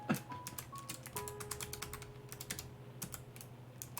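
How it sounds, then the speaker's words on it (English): Computer keyboard keys clack in an irregular burst of close, crisp strokes during a Python coding session, with a steady tonal hum underneath and no talking. "Hopefully you guys are kind of enjoying the keyboard ASMR"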